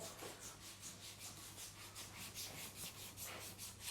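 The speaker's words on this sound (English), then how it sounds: "We will now clean the sheath of the cable and roughen it up" An electrical cable sheath being cleaned and roughened by hand, a faint, steady back-and-forth rubbing in regular strokes about three per second, close and alone with no voices.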